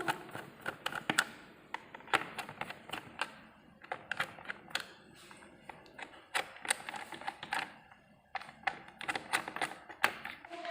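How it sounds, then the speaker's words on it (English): Screws being undone from the plastic casing of an electrical extension board with a one-way switch and a 3-pin socket: a close, steady run of small clicking and ticking taps, with brief pauses between bursts. "There are 5 screws. I will have to remove these screws."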